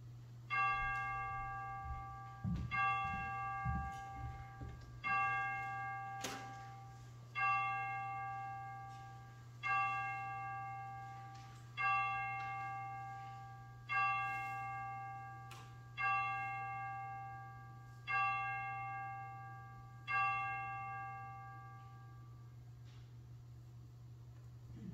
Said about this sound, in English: we will let the chimes bring us into